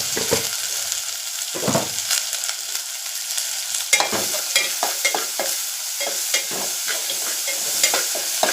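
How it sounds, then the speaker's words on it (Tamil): Fenugreek rasam mixture sautéing on a low flame, a soft frying sizzle broken by repeated scraping stirs of a ladle against the pan, close and fairly steady. "அடுப்பை சிம்மில் வச்சு கொஞ்சம் நல்லா அதை வதக்கி விட்டுக்கிறேன்"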